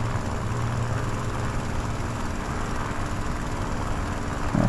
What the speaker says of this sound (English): I keep hearing an engine,